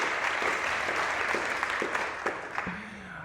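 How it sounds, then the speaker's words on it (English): Audience applause fills a San Francisco Bicycle Coalition annual member meeting, a dense even patter of many hands that thins toward the end as a voice starts. "yes, round of applause for"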